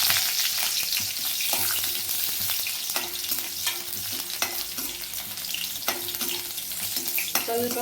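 Garlic fries in about two spoons of oil in a pan for chana masala, a steady close sizzle broken by occasional scraping and clinking of a stirring spoon.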